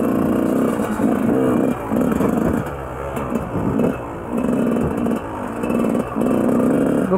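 A 2004 Yamaha YZ125 two-stroke dirt bike engine revs hard at full throttle, repeatedly rising and dipping in loud bursts close to the listener.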